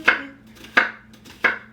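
A knife chops through an onion on a cutting board with three crisp, evenly spaced strokes, close and clear in a quiet room.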